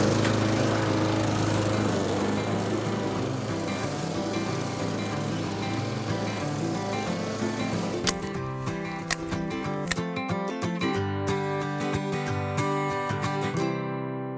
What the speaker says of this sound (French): Je passe un coup de tondeuse ou débroussailleuse ou un engin qui broye.